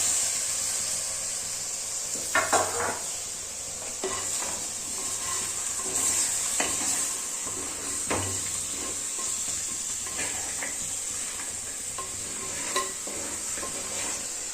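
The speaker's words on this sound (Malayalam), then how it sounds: "ഇതിലേക്ക് നമ്മൾ ക്ലീൻ ചെയ്ത് വെച്ചിരിക്കുന്ന ഞണ്ട് നമ്മൾ ചേർത്ത് കൊടുക്കും." Cleaned crab stirred into sizzling curry masala in a pan: a low, steady fry hiss with repeated scraping stirs and occasional clinks of a utensil against the pan, nearby and without speech.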